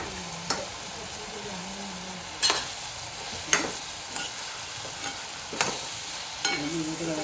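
Creek prawns with masala, coconut, turmeric, asafoetida and garam masala being stirred in a pan, a low steady sizzle broken by several distinct scraping strokes of the spoon at irregular intervals.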